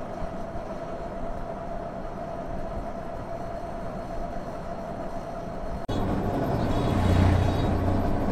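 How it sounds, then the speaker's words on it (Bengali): Train rumble beside Khulna railway station, a steady mechanical roar heard from a moving vehicle, growing abruptly louder and fuller partway through, with no voices. "যাচ্ছি খুলনা রেল স্টেশনের পাশ দিয়ে।"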